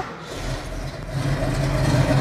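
A car engine idles steadily and close by after starting, with a low, even hum that rises slightly toward the end; no one speaks.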